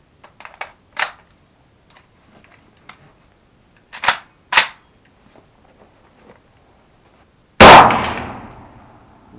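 A 7.62x39 rifle shot fired at a steel gong 100 metres away: a sharp loud crack with a long decaying ring, preceded by several short metallic clicks and handling taps.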